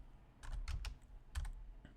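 Computer keystrokes tapped on a keyboard at a Linux command line, a few quick clustered presses with short pauses, close and fairly quiet.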